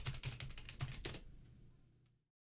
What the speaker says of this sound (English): Why does my mic now pick up my keyboard noise?